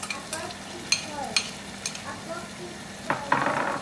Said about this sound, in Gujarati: થોડી વાર સાતળી પછી આમાં હું ટમાટો અને થોડું ગાર્લિક એડ કરીશ.